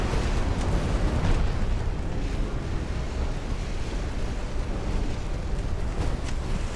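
Torpedoes being destroyed in the naval warfare game Ultimate Admiral: Dreadnoughts, a sustained rumbling roar of explosions and booming blasts, loud and continuous with no talking over it.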